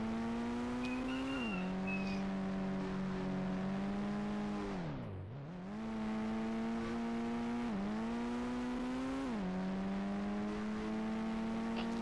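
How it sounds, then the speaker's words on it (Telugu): Engine of a Thar car revving and accelerating in the mobile game Indian Bike Driving 3D, a steady synthetic drone that climbs in pitch through repeated gear shifts, dips sharply once midway, then rises again, loud and close with no talk. "చాలా స్పీడ్ వస్తుంది కారు."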